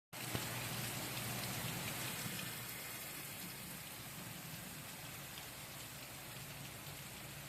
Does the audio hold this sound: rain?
yes